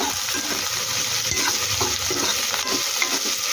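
Ivy gourd (dondakaya) frying in oil in a pan, a continuous close crackling sizzle broken by soft scraping stir sounds, with no talking.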